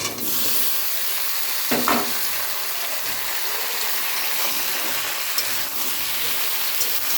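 Chopped vegetables hit browned onions in a pan for a thin Bengali fish curry, setting off a loud, steady, rain-like sizzle with occasional stirring scrapes and no voices.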